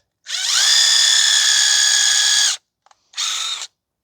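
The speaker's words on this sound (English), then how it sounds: "we're just going to use the brush to go inside to clean the inside of the bore" An impact driver whirs at high speed for about two seconds, stops briefly, then spins again in a shorter burst, loud and close, spinning a brush inside a seized brake caliper bore on a 2012 Ford Fusion 2.5.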